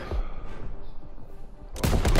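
In Call of Duty: WWII's Operation Cobra campaign mission, a burst of loud gunfire erupts near the end after a stretch of low rumbling background noise, sharp and dense like rapid shots.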